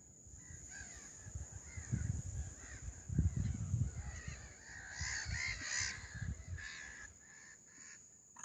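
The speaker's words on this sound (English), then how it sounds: "there's some swans and a load of ducks" Swans and ducks calling at a coastal nature reserve near the dunes: honking and squawking calls rise and fall over a steady outdoor hiss, with busier bursts throughout.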